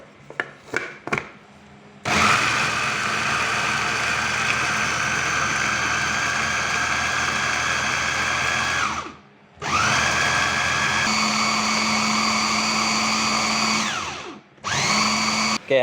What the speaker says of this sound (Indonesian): Ya, kita blender halus.